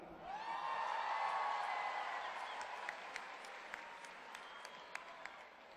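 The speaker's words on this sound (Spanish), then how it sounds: "Vamos a recibir con un fuerte aplauso a los nominados en la categoría animador" Audience applause for nominees at the Copihue de Oro 2012 television awards gala in Chile, a sustained broadband clapping swell from a large crowd that peaks early and gradually thins, with a few isolated claps and faint whoops near the end.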